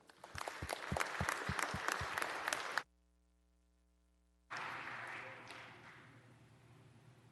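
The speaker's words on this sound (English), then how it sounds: "If you'll stand and give them a round of applause today." Applause fills a legislative chamber during a House floor session, with dense clapping from a crowd breaking off suddenly into a silent gap before resuming at a softer, steadier level.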